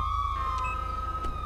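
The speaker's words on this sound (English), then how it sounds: "I'm gonna go ahead and shut off my siren." Police car siren on a California Highway Patrol cruiser in the video game GTA 5, a steady electronic wail holding a sustained pitch throughout, fairly quiet under a low engine hum.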